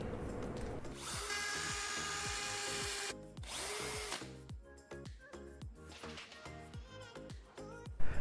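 A power drill bores holes into a wall for curtain rod clamps, with a loud sustained whine that stops abruptly, then shorter revving bursts and pauses near the end.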